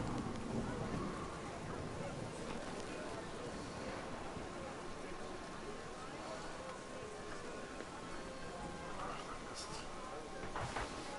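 Steady rain pours down in a video game scene, a dense, continuous hiss of drops filling the whole stretch at an even level, with faint scattered patters on top.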